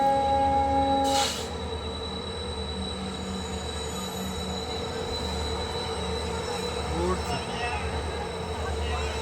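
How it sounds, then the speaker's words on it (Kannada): A goods train rolls past on a railway near Goa, a steady loud rumble of wagons with high squealing wheel tones throughout and a short horn-like burst at the start. "ಈಗ ಇನ್ನೊಂದು ಗೂಡ್ಸ್ ಟ್ರೈನ್ ಬಂತು ನೋಡಿ."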